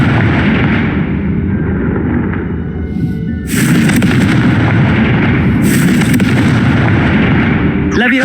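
Confringo fire spells in Hogwarts Legacy blast in two loud booming explosions over a dense, roaring rumble of magical combat, with a sharp crack at the very end.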